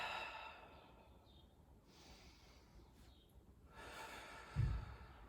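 Slow, audible breaths during a yoga power flow, a long exhale and inhale that end in a short, sharp nasal puff near the end, close and quiet.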